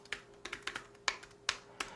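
Keys on an iPad Pro Smart Keyboard Folio are typed in a sparse, uneven series of about eight soft, close clicks separated by short pauses, with no talk over them.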